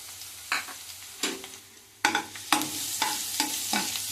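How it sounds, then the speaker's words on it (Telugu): Crushed garlic and cumin fry in a pan with a soft constant sizzle, broken by several close scraping stirs of a spatula at irregular intervals. "ఇది కాస్త వేగనివ్వాలి."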